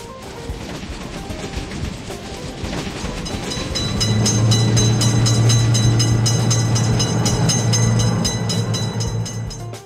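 A train rushes through a level crossing in a railway crossing game, building into a loud continuous rumble with rhythmic clickety-clack of wheels over rail joints and a low sustained horn-like drone.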